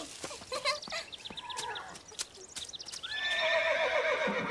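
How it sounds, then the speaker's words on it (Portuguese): A cartoon horse neighs loudly several times, with clattering hoof-like knocks early on and a long, shrill whinny rising near the end. "O som do cavalo"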